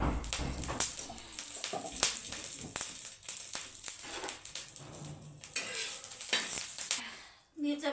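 Whole green chillies roast and sizzle on a hot iron griddle, with a steady hiss broken by repeated scraping and stirring knocks of a spatula, close and fairly loud.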